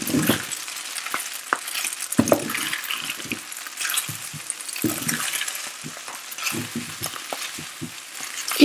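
Spaghetti fries in a pan with a steady sizzle and occasional stirring scrapes and light clinks, close and continuous.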